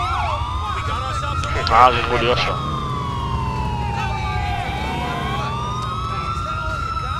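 Police siren wailing in GTA IV, its sweeping tone rising and falling steadily throughout alongside game engine and traffic rumble, with someone briefly speaking over it.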